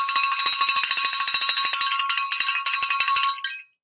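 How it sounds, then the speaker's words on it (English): Bell rung rapidly over and over, bright metallic strokes at a fast, slightly uneven rhythm, loud and close, ending abruptly when the ringing stops. "Okay, now We are going to ring the bell"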